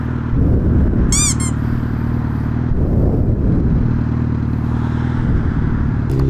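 Suzuki Hayabusa sport motorcycle being ridden in B mode, with a steady, loud engine drone throughout and a brief high squeal near the start, with no talk.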